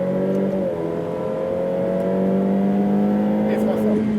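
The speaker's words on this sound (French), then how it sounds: "commence à baisser les roues et on reprend l'accélération" A Ferrari F8 Tributo accelerating hard on a circuit during a driving course, its engine note rising steadily in a loud, continuous tone, with brief gear-change breaks near the start and end.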